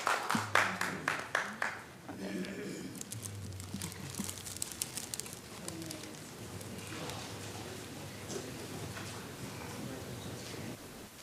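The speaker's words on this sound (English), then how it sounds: "Another round of applause." Audience applause at an environmental protection commission meeting: a burst of sharp claps in the first two seconds, then a steadier patter of clapping that continues at moderate level to the end.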